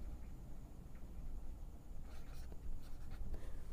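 A pen scratches steadily across paper while a Class 10 geometry theorem on angles in a circle is worked out, with soft continuous strokes and a few firmer marks near the end, quiet and close.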